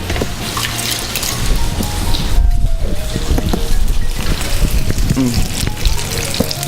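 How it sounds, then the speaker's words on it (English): Running water pours steadily over cooked pasta in a kitchen to rinse off the starch, a loud continuous splashing rush with clinks of the colander and pan, no talk. "I'm just going to rinse my pasta."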